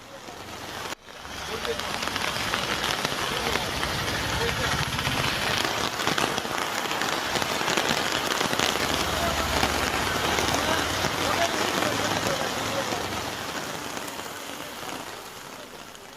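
Heavy rain pours down in Thanjavur, a loud, unbroken roar of drops that swells within the first second and holds steady before easing slightly toward the end.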